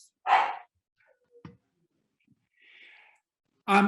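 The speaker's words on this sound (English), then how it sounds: "My apologies for the dogs." A couple of dogs bark in short sharp bursts separated by quiet gaps, with faint small sounds in between.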